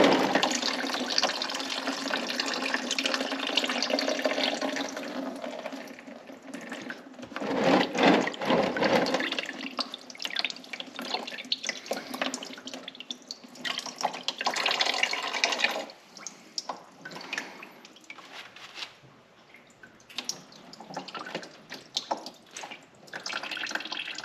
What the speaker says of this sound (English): There's a second drain plug here that drains the cylinders.